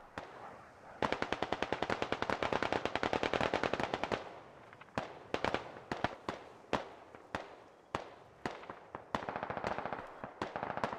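Dense automatic gunfire and scattered single shots during an ambush in the video game Squad, a long rapid burst followed by irregular bursts and cracks, loud and close, with no speech.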